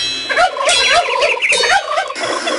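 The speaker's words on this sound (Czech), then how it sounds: "Krocanů je tady dost." Turkeys in a zoo video game gobbling, a series of rapid warbling bursts repeated several times in quick succession, loud and close with no talk.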